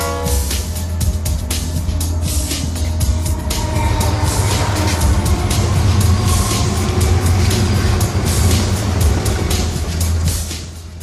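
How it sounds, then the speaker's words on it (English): Train in an animated children's programme, a steady loud rolling rumble of railway wagons with rhythmic clicking, continuous throughout. "Kids, look there. It is a train."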